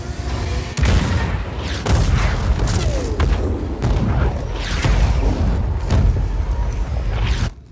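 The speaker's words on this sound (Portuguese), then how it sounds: "Acione as torres de artilharia." Artillery turrets fire in the video game Just Cause 4, producing loud repeated booming blasts about once a second, each followed by a rumbling crackle across a dense, noisy battle background.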